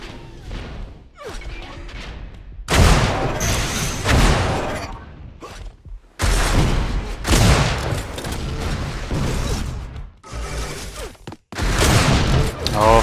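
Rocket blasts and heavy weapon fire in Unreal Tournament, as loud, dense bursts of explosions and crashes in several long barrages separated by brief gaps.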